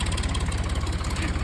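An Indo Farm tractor's diesel engine idles at a petrol pump, a steady low pulsing throb with rapid regular firing knocks, close and constant throughout.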